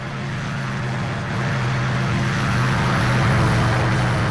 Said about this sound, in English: Did I just hear a plane?